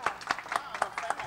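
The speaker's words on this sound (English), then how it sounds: "Let's give her a round of applause." A few people clap for a female performer on a show segment, sparse and fairly faint, with several separate claps spread across a short moment and a voice murmuring underneath.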